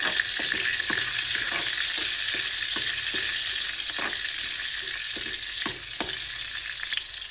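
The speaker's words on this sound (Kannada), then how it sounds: "ಸೊ ನೋಡಿ, ಮೆಣಸು ಸ್ವಲ್ಪ ಫ್ರೈ ಆದರೆ ಸಾಕು." Green chillies fry in hot oil with a constant loud sizzle, broken by repeated scraping stir strokes at an irregular rhythm, close up and with no voices.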